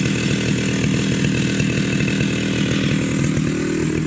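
Chainsaw mill cutting boards from bone-dry logs, a loud, steady snarling saw at close range with a rough chattering edge throughout and no pauses.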